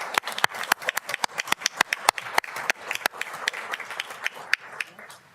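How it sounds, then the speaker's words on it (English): A round of applause at a school board meeting, a dense run of claps from a group of people that slowly thins out toward the end. "So I really want to give them a huge round of applause for all they've done for us."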